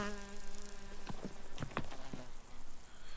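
Flies hum around white star-shaped alpine flowers in the Berchtesgaden Alps, a steady insect drone with a few brief soft taps and rustles in the middle, heard alone without talk.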